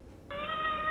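A single cat meow, clear and fairly close, sustained and steady across most of the moment after a brief quiet start, heard alone without any talking.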